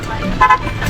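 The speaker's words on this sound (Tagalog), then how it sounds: "May busina yung ano? Stig, may busina." A vehicle horn toots briefly twice in quick succession near a riverside spot on an island, heard over background chatter and outdoor noise.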